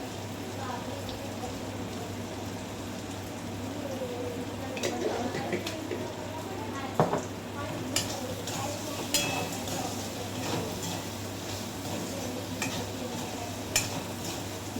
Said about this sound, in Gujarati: મારા કાંદા ગોલ્ડન બ્રાઉનના તમે જોઈ શકો છો થઈ ગયા છે.